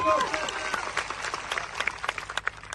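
A crowd at an outdoor political rally gives police officers a burst of applause, dense clapping that swells and continues under a speaker's voice.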